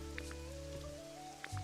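Rain summoned by Kyogre in the Pokémon Pokopia video game, a faint, steady wash of rainfall under tonal game music, continuous throughout.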